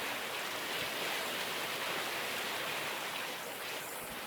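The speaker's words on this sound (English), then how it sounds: "scoop up the water. You'll get a prompt to put your bucket on there and pour the water through the dirt." Water poured from a bucket through dirt in a gold pan in the Gold Rush video game, a steady rushing, splashing wash that runs continuously for about four seconds at moderate volume.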